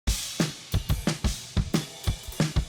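Drum mix for the song, with a punchy kick and snare pattern, the kick reinforced by trigger samples, in a steady rhythm of about eight loud hits over close, dry cymbal wash.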